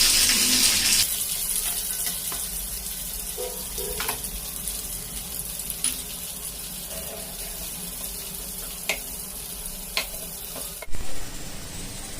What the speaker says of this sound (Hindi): तो अब ड्राई फ्रूट हम थोड़ा सा फ्राई कर लेंगे